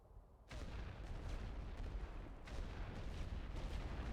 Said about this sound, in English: Let's use heavy artillery to dispose of him.